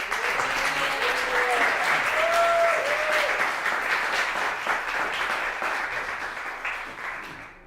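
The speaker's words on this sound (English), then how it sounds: "One more round of applause for Peter." Audience applause after a live evening talk on St. Patrick's Day, steady and full for several seconds with some voices mixed in, then tapering off toward the end.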